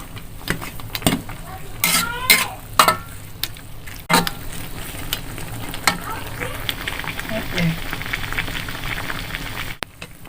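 Noodles with scallions and bird's eye chili fry in a hot pan, sizzling steadily while a utensil stirs and scrapes, with several sharp clanks of metal against the pan early on.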